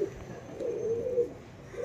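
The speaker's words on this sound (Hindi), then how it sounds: "मादी एकदम प्योर क्वालिटी में कलमुए कबूतर" Kalmuhe pigeons, purebred birds kept in a loft, give a soft low cooing that rises and falls in a single drawn-out call, faint and close with quiet background.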